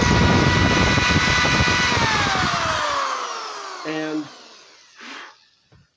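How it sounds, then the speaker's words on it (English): A power drill whines loudly and steadily for about three seconds boring a small hole in wood, then stops; a few brief clicks and a short spoken word follow. "So, finally, just make this little drill hole."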